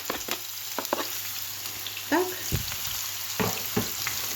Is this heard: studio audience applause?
no